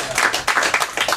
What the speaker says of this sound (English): How about a big round of applause for Mr. Teddy Roosevelt, ladies and gentlemen.